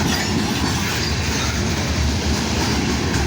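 A Kansas City Southern freight train rolls steadily past at close range, its wheels and cars giving a continuous loud rumble with faint clickety-clack and no voices.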